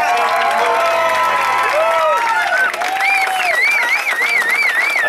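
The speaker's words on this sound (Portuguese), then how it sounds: "Uma salva de palmas para nossa família." A crowd celebrating a birthday at an evangelical gathering applauds and cheers loudly, with shrill wavering whistles and shouts riding over continuous clapping throughout.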